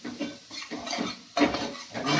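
Spoon stirring and sautéing crab curry with dark coconut masala in a pan, giving close scraping clatters in uneven bursts over a light sizzle, with no talking.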